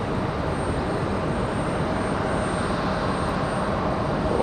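A Piper light aircraft, a flight school plane, flies overhead at Raleigh Durham International airport, giving a steady broadband engine drone that holds at an even level throughout with no talk.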